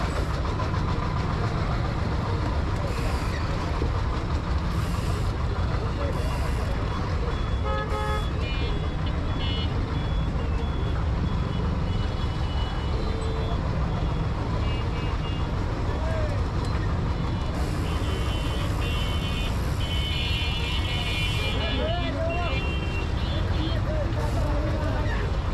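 A congested Dhaka city road in a traffic jam gives a dense, constant roar of idling and creeping engines, with scattered horn toots near and far.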